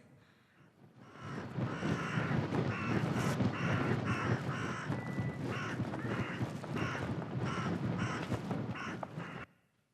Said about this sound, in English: We have the teenagers becoming nasty crows.